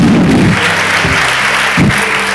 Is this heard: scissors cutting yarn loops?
no